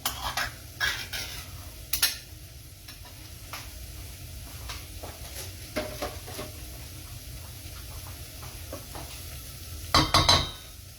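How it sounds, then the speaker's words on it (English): Onions and spices sizzle gently in a pan on the stove, a steady soft frying hiss broken by occasional scrapes and clinks of a utensil stirring, louder clatter near the end. "So the onions are cooked now and the spices are cooked in there."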